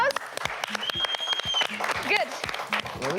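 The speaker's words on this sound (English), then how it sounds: "Let's give them a big round of applause." Brief audience applause on a children's educational TV show, with sharp claps mixed under lively voices and some whistle-like tones, all fairly short and moderately loud.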